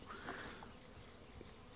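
Many bees hum softly around blossoming pomegranate trees in a garden orchard, a faint, even buzzing drone close by with a few small rustles.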